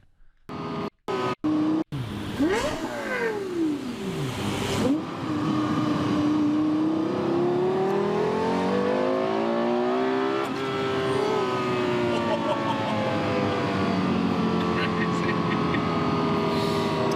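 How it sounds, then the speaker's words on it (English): A car engine revs hard with rising and falling pitch sweeps, loud and close, after a few sharp bursts at the start; voices are faintly present. "Listen to the car."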